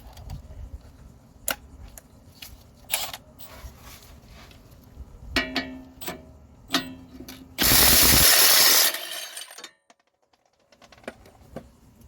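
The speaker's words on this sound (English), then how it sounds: "You can use an impact gun to" Impact gun on the front strut bolts of a 2019 Ford Explorer, a single loud burst of about a second and a half after scattered nearby tool clinks, then quiet.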